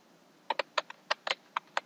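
Fingers tap on a computer keyboard, about ten quick, light keystrokes in an uneven rhythm, close and quiet with no talk.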